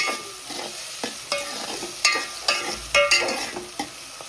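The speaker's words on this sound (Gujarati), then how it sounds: "મસાલો એકદમ ગ્રેવી જેવો કરી દે, પણ સાંતળવાનું." Spiced masala gravy sautéing in a pan for Rajasthani dal baati, a steady close sizzle broken by repeated sharp scrapes and knocks of a spoon stirring against the pan, with no voices.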